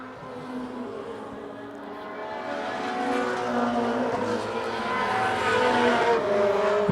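A front-wheel-drive Acura race car corners hard on a circuit, its engine note climbing and swelling steadily as it draws nearer, with faint tire scrub beneath and no voices.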